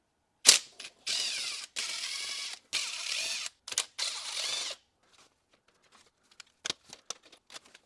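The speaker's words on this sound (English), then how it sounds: "there's 4 Phillips screws holding in the radio to the bezel. Let's remove those." Phillips screws being backed out of a Toyota Sienna car radio bezel: close, dry ratcheting clicks in several short bursts, then sparse small ticks and taps of handling as the screws come free.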